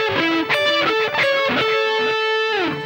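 Distorted electric guitar playing a lead phrase from a song's chorus, a short run of sustained, singing single notes with bends, close and alone.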